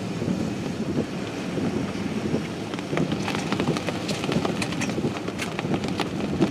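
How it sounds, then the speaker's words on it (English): Hailstones striking a car hood during a destructive spring storm in Wisconsin, a dense, continuous rattling patter with sharper individual ticks building in the second half, close and fairly loud with no talking. "Yeah, it's hailing out there."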